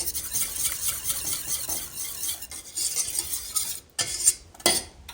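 A spoon stirs maple syrup into a tart filling in a bowl, giving steady scraping and swishing with light clinks, pausing briefly before a couple of sharper scrapes.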